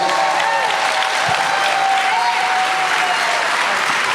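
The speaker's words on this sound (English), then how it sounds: "Another round of applause for our graduates." Sustained applause from a large audience at a 2017 high school graduation ceremony honoring the graduates, steady dense clapping filling the whole stretch with a faint tonal whistle running underneath.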